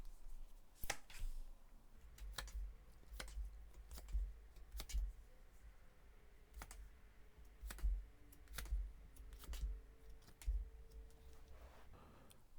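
Tarot cards being drawn and laid down: soft, sharp snaps and flicks, near and quiet, spaced irregularly over a low background rumble, no voices.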